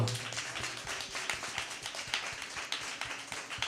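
Steady rhythmic hand clapping from a church congregation, quick regular claps continuing throughout at moderate distance.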